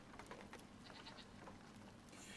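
Goats bleat faintly in the video game Brothers: A Tale of Two Sons, a few quiet calls over soft game ambience, with no talk.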